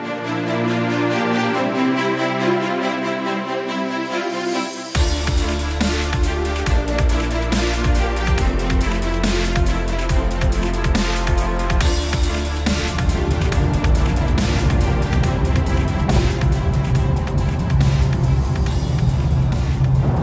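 A Toyota Fortuner 2.8 GR Sport 6AT 4x4 engine pulls under acceleration while driving, a loud, sustained drone that swells sharply about five seconds in and stays strong and continuous.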